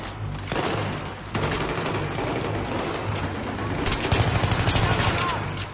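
Repeated shotgun blasts and gunfire in the Battlefield 3 Bank Plaza Takedown mission, loud and dense, with a burst of rapid shots near the end over a steady battle din.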